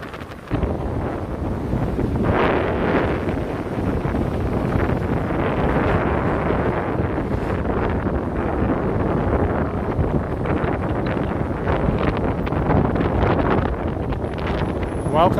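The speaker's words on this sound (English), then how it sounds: "We're on the hot and windy George Washington Bridge." Steady wind buffets the microphone on the hot, windy George Washington Bridge, a constant loud roar with gusty rumble filling the whole stretch.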